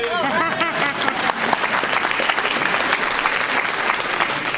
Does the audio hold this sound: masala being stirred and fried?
no